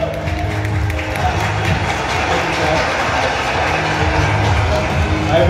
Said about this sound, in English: Let's all give a warm round of applause to Mr.